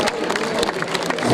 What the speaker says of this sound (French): On va applaudir bien fort Monsieur Michel Arruna